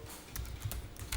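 A few soft keystrokes on a computer keyboard while entering accounting data, quiet, irregular clicks over a faint background hum.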